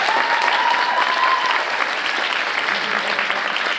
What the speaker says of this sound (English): So please give them all a huge round of applause one more time.